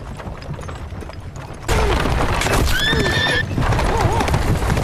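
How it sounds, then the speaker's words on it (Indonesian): A horse gallops and neighs loudly, with dense pounding hoofbeats that jump in volume partway through and several whinnies rising over the drumming, against a busy, noisy background. "Saat di tengah perjalanan kuda Kang Dedi mengalami masalah dan membuatnya jatuh ke jurang"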